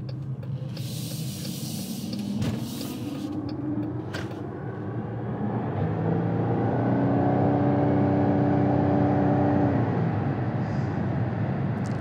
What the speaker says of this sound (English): I accelerated a little bit fast and it turned on the gas engine